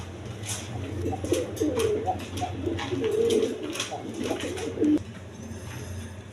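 A pair of green-necked high-flying pigeons at a farm cooing in repeated soft throaty calls, close by, over a low background hum.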